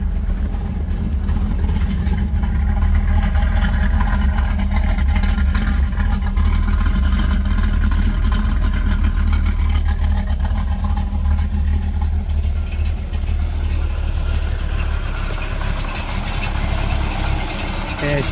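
A 1970 Chevrolet Nova SS 396 V8 with 23k original miles idles loud and close, a steady deep rumble running throughout with slight fluctuations, as if at risk of stalling.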